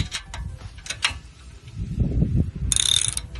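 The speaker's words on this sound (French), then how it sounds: "on prend du coup un cliquet 17 qu'on va mettre ici" A 17 mm ratchet wrench works a shock absorber bolt during a suspension job, giving a quick series of close metallic clicks with a brief burst of ratcheting near the end, and no talk over it.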